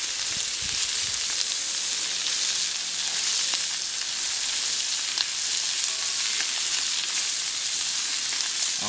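Salmon and prawn skewers sizzle steadily on a hot plancha griddle, a dense, continuous close frying hiss with no pauses and no voices.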